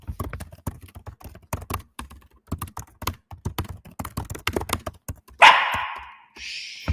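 Rapid computer keyboard typing clicks away steadily before a dog gives one loud, close bark, followed by a shorter, higher yip.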